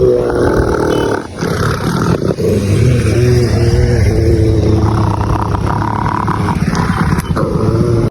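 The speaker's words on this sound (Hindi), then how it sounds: "देख रहे हो ये मेरे पे किस तरीके से गुर्रा रहा है।" A Rottweiler named Suru growls continuously at close range, a deep rough rumbling that rises and falls in waves for several seconds without pause.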